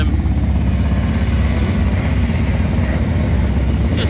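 Motorcycles returning down the course at the Leighton Hall motorcycle sprint, a steady loud engine drone with a low rumbling throb, several bikes idling or rolling by close at hand.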